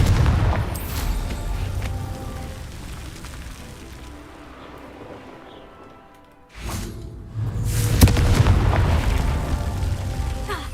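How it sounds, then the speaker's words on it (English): Booming spell explosions from Confringo in the video game Hogwarts Legacy, a heavy blast opening the clip that fades away, then a second loud burst with rumbling crackle after a short quiet gap. "Confringo!"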